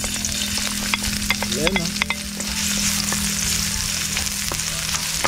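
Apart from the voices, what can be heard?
stir-frying garlic, onion, chili and ginger in hot oil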